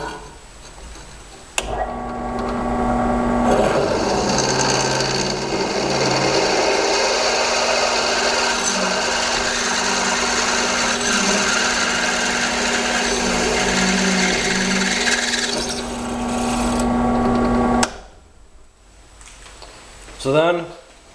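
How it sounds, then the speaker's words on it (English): A drill press boring a hole with a 3/8 bit runs as a steady, loud mechanical whine and grind for about sixteen seconds, starting and stopping abruptly, followed by a short quiet stretch and a brief clunk. "Don't want to drill a hole through my press table."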